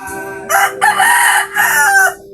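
A gamecock rooster crows loudly and close, with a short lead-in note and then a long drawn-out call followed by a second stretch, standing alone against a quiet background.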